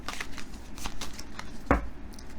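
Tarot cards being shuffled by hand, a soft papery riffle with a few quiet taps and one sharper slap of the deck, close and moderately quiet with no talking.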